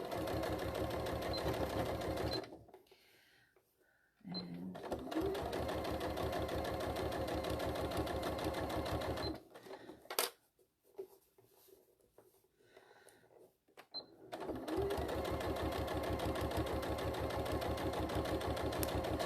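A sewing machine stitching a quarter-inch seam, a steady fast mechanical whir and patter that stops twice for pauses with quiet handling noises before running again.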